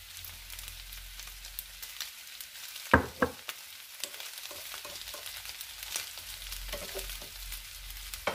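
Bacon sizzles steadily in a pan as pyttipannu cooks, a quiet continuous crackle with one brief sharp clatter near the start and faint low rumbles underneath.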